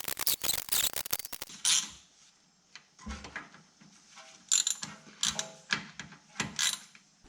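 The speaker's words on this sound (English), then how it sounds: "Tighten them down hand tight in a crisscross pattern." Mechanical clicks and ratcheting as differential cover bolts are tightened in a crisscross pattern on a Ford F-150, coming in close, irregular bursts of metallic ticks separated by short pauses.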